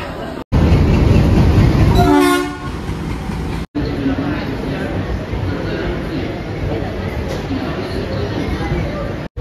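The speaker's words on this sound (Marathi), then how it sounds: "गाडीमध्ये बसून आता गाडी आपली आत्ता सुटलेली आहे" A short train horn toot sounds over loud rumbling, then a steady rolling clatter of rail cars continues as the train moves off.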